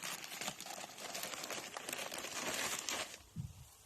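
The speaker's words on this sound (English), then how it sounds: "I'm just going to put a bag around them." A big plastic bag crinkles and rustles close up as it is pulled over potted plant cuttings, a soft continuous crackling that stops near the end, followed by a brief low thump.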